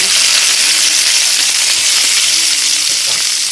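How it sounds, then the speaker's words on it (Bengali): Pumpkin pieces fry in hot oil, giving a loud, dense, continuous sizzle close up with no pauses. "এখানে দেখুন কুমড়ো বানিয়ে নিয়েছি কুমড়োগুলো এরকম ভাজা করতে"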